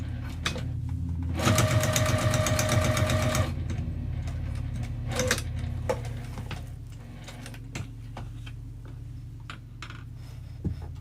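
Sewing machine stitching down both sides of a folded wristlet strap, a fast two-second whirring burst of stitches followed by quieter handling clicks and faint shuffling.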